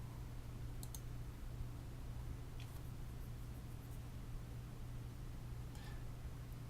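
Computer mouse clicking, a few sharp faint clicks spaced apart over a steady low hum, with no talking.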